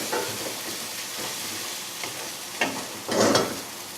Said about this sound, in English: Just boiling down there, nearly there.